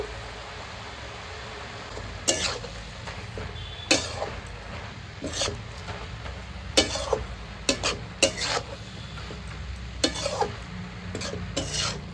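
Ash gourd pieces cooking in a pan with a light sizzle while a utensil stirs and scrapes, giving sharp irregular clinks and scrapes over a low steady background hum, close with no talking.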